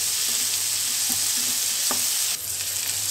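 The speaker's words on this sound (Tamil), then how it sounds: "இது நல்லா பொரிஞ்ச பிறகு வெங்காயம் சேர்த்துக்கிறோம்." Onions sauté in hot oil with green chilies, curry leaves and salt for a rajma gravy, giving a continuous, close, crackling sizzle. Occasional faint taps of a spoon against the pan sound through it, with no voices.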